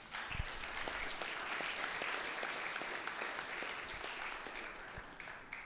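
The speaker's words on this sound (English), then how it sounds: "A huge round of applause for them," An audience at a university startup competition applauds the judges, a sustained crowd of many hands clapping steadily and evenly throughout, slightly distant, with no voices over it.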